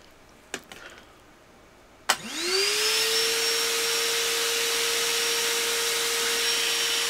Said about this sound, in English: I have the vacuum ready